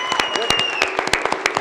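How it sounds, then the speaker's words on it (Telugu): Audience applause at a movie success meet, a short spell of scattered, sharp hand claps close by, with a voice speaking over them. "ఒకసారి అందరూ భైరవ్కి గట్టి ఒక చప్పట్లు కొట్టండి మా కోసం"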